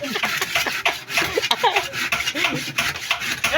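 Someone saws wood with a handsaw in rough, irregular rasping strokes nearby, with a little background chatter.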